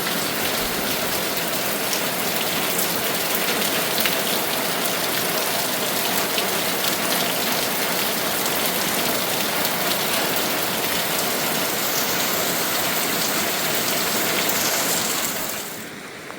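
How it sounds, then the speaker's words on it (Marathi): Steady rain pours in a Konkan village among fruit trees, a dense, even hiss of drops on surfaces lasting throughout and easing slightly at the very end. "नॅचरल असा पाऊस पडतो एकदम छान सुंदर."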